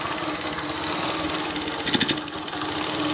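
A 1981 Honda C70 Passport motorcycle engine idles quietly and steadily after an idle adjustment and fresh gas, with a brief uneven flutter partway through.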